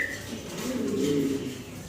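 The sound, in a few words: fancy pigeons cooing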